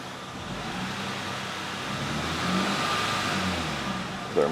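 A misfiring car engine idles close at the tailpipe, a steady low rumble with faint uneven pulsing that holds throughout, ending in a brief bump.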